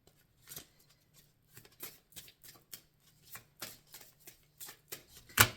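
A deck of playing cards being cut and handled: a quick series of crisp riffling flicks and snaps, close and clear, ending with a sharper slap.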